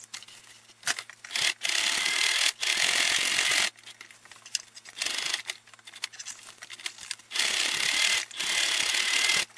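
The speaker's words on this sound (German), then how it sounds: "Jetzt kann ich die einfach hier so alle gleichzeitig dann immer festnähen." A sewing machine stitches straps onto a homemade chest rig in bursts of steady mechanical whirring, alternating with short pauses and fabric handling, close and fairly loud with no talk.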